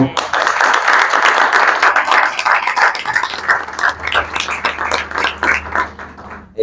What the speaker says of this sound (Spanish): por la que pido un fuerte aplauso